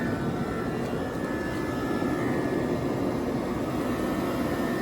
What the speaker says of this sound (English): you can also hear that AC compressor is kind of loud